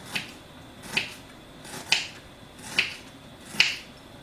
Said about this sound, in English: I've peeled the skin off the ginger root, and then I'm just gonna slice it